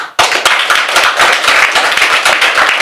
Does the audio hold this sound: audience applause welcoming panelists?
yes